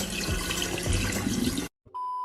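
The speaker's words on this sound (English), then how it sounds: "make sure to clean the rice with some water first to remove any dirt and impurity from it" Rice being rinsed with running water, a steady splashing hiss for about a second and a half that cuts off abruptly, followed by a faint electronic tone.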